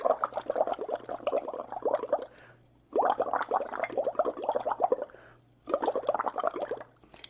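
Kangen water pours in three bursts, each a dense, bubbly splashing of a couple of seconds separated by short quiet gaps, heard close up.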